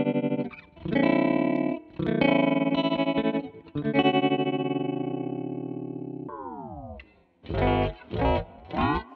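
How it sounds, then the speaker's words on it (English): A MoogerFooger ring modulator plugin processes sustained synth-like tones into buzzy, metallic chords, then a rapid fluttering warble slows as it sweeps downward, followed by short choppy bursts. Loud and upfront, with no talking. "ring mods is when it kind of starts super fast and fluttery and slows down"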